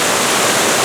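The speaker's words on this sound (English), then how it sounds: "Now we've got 3 waterfalls here in this section, and they are filtering our river." A steady, close roar of falling water from indoor waterfalls feeding a filtered indoor river, dense and unbroken for the whole brief moment.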